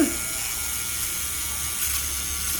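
A small electric eyebrow hair remover runs close by, giving a steady, even high-pitched buzzing whir with no breaks.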